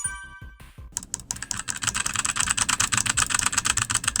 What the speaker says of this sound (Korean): 게임 중 필요 이상으로 클릭질을 해대고 키보드를 두드리는 사람을 가리킵니다